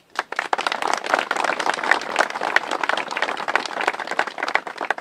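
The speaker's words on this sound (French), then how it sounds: "qu'on va applaudir également" Audience applause rings out at an outdoor ceremony in Ancinnes for the 2nd Armoured Division memorial route and Kufra Oath marker. Dense, steady clapping from a sizeable crowd carries on for about five seconds.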